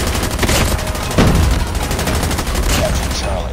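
Steady gunfire in Call of Duty Mobile during a pro team match, rapid automatic shots running throughout, loud and dense, with brief heavier bursts mixed in.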